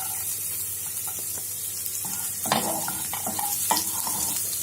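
Chopped garlic, four cloves, fries in hot oil with cumin for palak paneer, a steady close sizzle broken by a few scraping stirs and clinks of a spoon against the pan.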